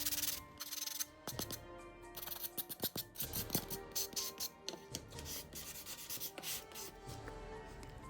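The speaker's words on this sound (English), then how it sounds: "I grabbed a sanding block and started sanding it down to make it look more weathered" A sanding block rubs over a miniature wooden cabinet in short, repeated scraping strokes, close and quiet, with faint background hum and no talking.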